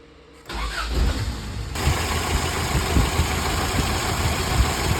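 A rebuilt Toyota 22R four-cylinder engine cranks and catches, then settles into a steady, close, fairly loud idle with a low rumbling throb and no voices.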